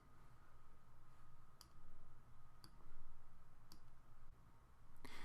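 A computer mouse clicking while a WordPress page is edited: four or five crisp, faint clicks spaced about a second apart over a low background hum.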